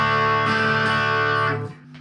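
A 1968 Fender Bassman amplifier plays loud, a sustained distorted guitar chord ringing out close and then dropping away near the end.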